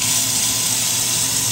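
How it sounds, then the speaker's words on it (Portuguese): A golden faucet in a luxury mansion bathroom runs steadily, a loud, continuous close-up gush of water with no break. "Olha o detalhe dessa torneira"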